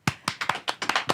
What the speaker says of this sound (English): This is our flamenco clapping.